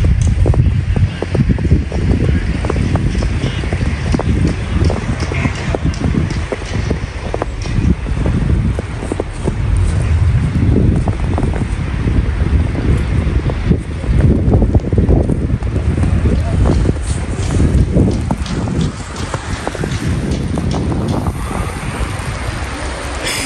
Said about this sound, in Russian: так стою, ветер на меня прям дует